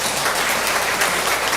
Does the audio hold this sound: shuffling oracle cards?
no